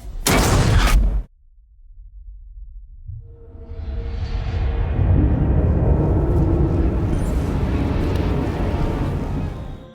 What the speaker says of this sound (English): I didn't trigger that explosion on any of my previous playthroughs, and that scared the ever-living shit out of me.